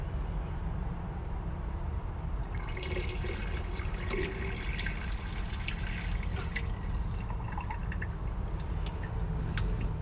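Antifreeze poured down the kitchen sink drain of a Roadtrek SS Agile camper van during winterization, a steady trickling, gurgling liquid flow close by that carries on unbroken throughout.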